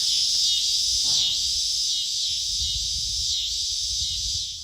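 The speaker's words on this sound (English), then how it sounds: "I hope you've been outside and hearing and seeing the cicadas" Annual dog day cicadas drone in a loud, continuous high buzz that swells slightly and fades near the end, with faint low rumbling underneath.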